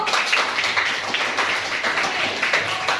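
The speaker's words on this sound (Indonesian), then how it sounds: "Tepuk tangan kelompok 1" Classroom applause for group 1 in a lesson, a dense steady patter of many hands clapping together, close and fairly loud, sustained for the whole stretch.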